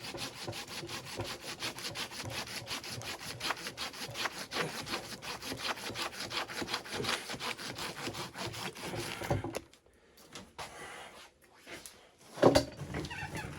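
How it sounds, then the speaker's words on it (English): A Japanese pull saw cuts through smoketree wood for about nine seconds in steady, rapid back-and-forth strokes, close and fairly loud. After that there are quieter handling sounds and a single sharp knock. "I like the Japanese saw because it's got a finer cut."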